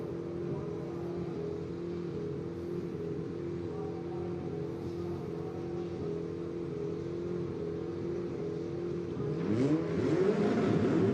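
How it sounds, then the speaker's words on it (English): A dense chorus of distant race car engines at a race start at Canadian Tire Motorsport Park hums steadily, then swells as revs climb sharply near the end. "You hear the revs."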